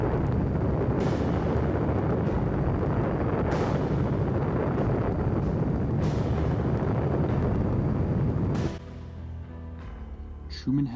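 The Trinity test atomic bomb explosion heard as a loud, sustained roaring rumble that fills everything for several seconds, then abruptly drops away to a quieter residual noise near the end.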